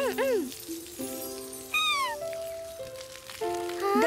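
A cat meows repeatedly just after a bath, its several rising and falling cries close and clear, with voices talking around it.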